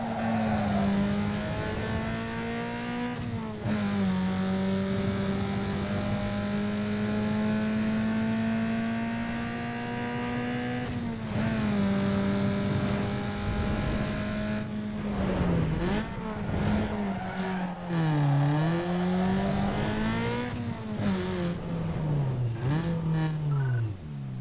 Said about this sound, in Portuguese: mais uma corrida de aceleração patrocinada